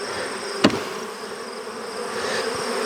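Honey bees buzz around a screen-bottom beehive, a steady close drone with one sharp knock early on and no voices.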